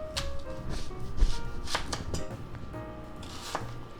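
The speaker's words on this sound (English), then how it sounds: "Now we're gonna cut up maybe half an onion." A knife cuts through half an onion on a board in a home kitchen, giving a series of uneven, close chopping knocks and crisp slicing crunches at an irregular pace with no voices.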